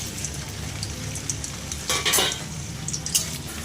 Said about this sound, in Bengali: এবার ঘিয়ের মধ্যে এই পনিরগুলো ভেজে নেব।